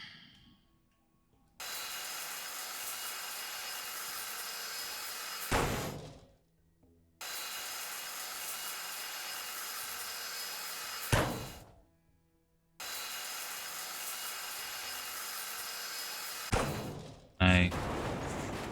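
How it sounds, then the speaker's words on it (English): An angle grinder cuts into a ship hull in Ship Graveyard Simulator 2, sounding as three long, steady bursts of harsh, loud grinding, each cut off abruptly, with brief quiet gaps between them. "let's clear this off with the grinder"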